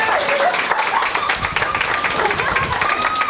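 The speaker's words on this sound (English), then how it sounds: "Give Bronza a big round of applause." An audience applauds, dense continuous clapping mixed with crowd noise and voices calling over it.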